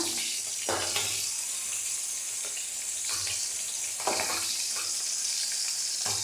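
Sardines coated in flour fry in a pan, a steady crackling sizzle with a few sharp bursts of spatter and clatter as the fish are flipped.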